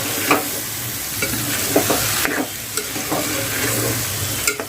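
Ivy gourd curry with raw mango is stirred in a hot pan, a spatula scraping and tapping in irregular strokes over a continuous loud sizzle, with no voices.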